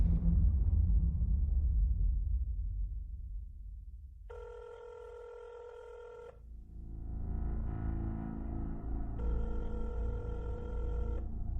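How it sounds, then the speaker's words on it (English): An old-style telephone rings in two bursts of bright electronic trilling, separated by a short pause, over a low droning musical bed with no voices. "Eric's manager at the luxury car dealership sat in his office trying to get a hold of Eric on the phone"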